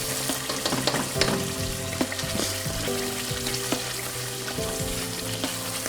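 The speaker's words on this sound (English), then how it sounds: "I'm just going to stir this thoroughly" A pot of Nigerian jollof rice with bay leaves being stirred, a spoon scraping and knocking against the pot in an uneven rhythm over a constant sizzle, close up and without talk.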